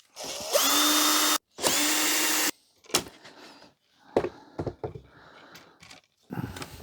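Power drill backing screws out of a 1991 HP LaserJet 3P printer, two loud sustained whirring bursts up close, followed by clattering and handling of metal parts.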